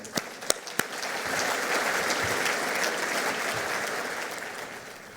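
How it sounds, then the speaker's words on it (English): A crowd applauds at a business hall of fame event, a few sharp claps leading into a sustained, even wash of clapping from a large audience. "let's give them a big round of applause"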